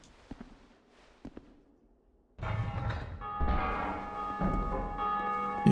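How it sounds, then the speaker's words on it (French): A bell rung in the video game Dark Souls II: quiet clicks give way to a loud, ringing bell peal that swells and keeps resonating, with a second strike layering over the sustained tone. "Et je sonne la cloche, très bien."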